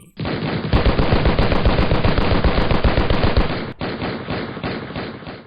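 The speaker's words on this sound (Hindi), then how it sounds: "और यहां पहुंचने के बाद अंधाधुंध गोलियां बरसाई जाने लगीं।" Loud, rapid automatic gunfire rattles continuously for several seconds, pausing briefly before another burst.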